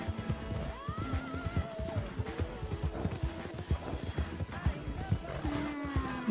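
A horse in Red Dead Redemption 2 trots with steady clip-clopping hooves and whinnies a few times, moderately loud, while someone talks over it.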